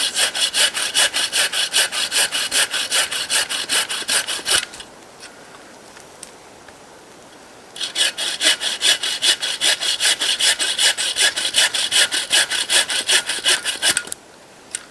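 An EKA combi saw cuts through a tree branch in fast, steady back-and-forth strokes with a rasping wooden scrape, pausing for a few seconds midway before sawing resumes, close and loud.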